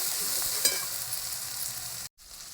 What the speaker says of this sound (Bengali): হলুদ গুঁড়ো দিয়ে দেবো ভালো করে কষে নেবো এটা